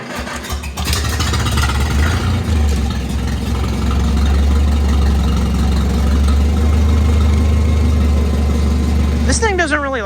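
An old tractor engine cranks and catches, then runs at a steady, loud, low chugging idle close by, with a brief higher squeal or whine near the end.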